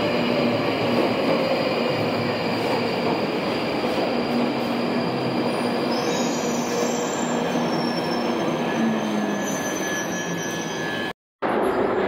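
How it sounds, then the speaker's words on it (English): London Underground train pulling into Battersea Power Station with steel wheels squealing loudly and steadily over a rumbling roar; the sound cuts out briefly near the end. "Battersea Power Station train comes in."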